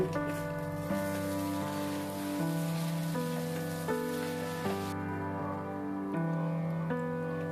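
Chicken noodles with soy sauce and noodle spice mix fry in a pan, giving a steady, even sizzle beneath continuous background music.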